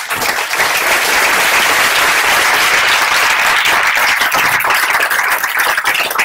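Children at a gathering clap in steady, continuous applause, a loud, dense patter of many hands that carries on evenly throughout without letup.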